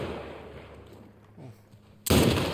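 A single loud, sharp gunshot from a firearm in The Last of Us Part 1 on PS5 bursts in near the end, following a quiet stretch of low ambient rumble and faint sounds.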